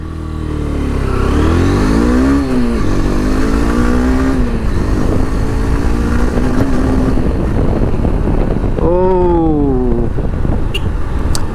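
A Honda CB200X motorcycle engine fires up and revs, loud and close, with rising and falling throttle blips over a steady idle rumble, and a sharp rev near the end.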